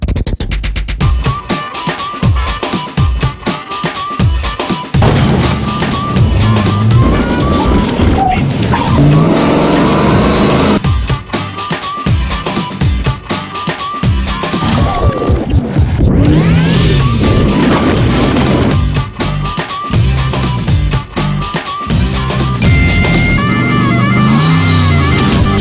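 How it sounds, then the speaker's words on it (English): A Rally Fighter being test driven hard off-road, its engine roaring and revving through gear changes with repeated tire squeals and skids, loud and close for the whole run, no talking. "we took a Rally Fighter from raw material to full-on test drive"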